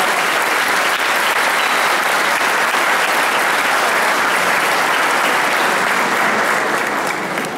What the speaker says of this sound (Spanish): Fuerte el aplauso por la familia